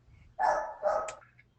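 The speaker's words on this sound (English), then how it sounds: "Somebody has a dog barking." A single dog barks twice in the background of an online class, moderately loud, with a short higher yelp at the end over faint room noise.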